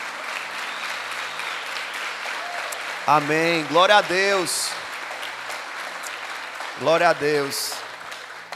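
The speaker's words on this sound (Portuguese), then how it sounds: "para pedir para que você desse uma salva de palmas para Jesus." A church congregation gives a round of applause for Jesus during a sermon, with steady clapping running beneath a preacher's voice, which breaks in with short exclamations.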